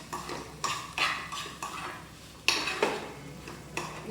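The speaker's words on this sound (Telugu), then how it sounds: "జస్ట్ మొత్తం మిక్స్ చేసేస్తాను" A utensil stirs and mixes food in a metal cooking pot, giving repeated scraping clinks at an irregular rhythm, close and moderately loud.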